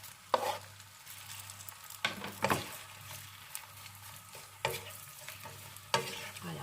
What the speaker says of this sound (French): on les imbibe bien, on les enrobe et on va les laisser revenir un bon petit quart d'heure en remuant régulièrement.